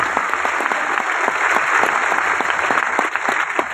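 An audience at a student convention in Chittorgarh claps vigorously, with individual claps distinct within a continuous, fairly loud wash, no speech over it.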